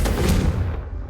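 The Confringo fire spell from the Hogwarts Legacy video game lands as a loud, close, booming blast with a low rumble that decays within about a second.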